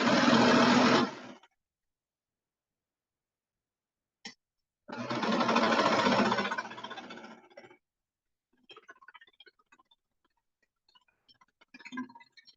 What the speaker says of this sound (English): And we're just going to serge it on.